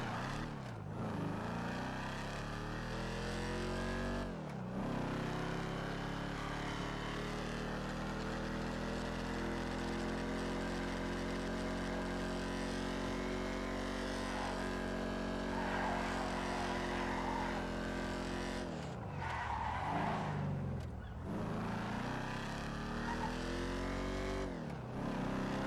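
A video game car drives at speed with a steady, droning engine that rises and falls in pitch through shifts and turns, with brief skidding bursts near the end and no talk over it.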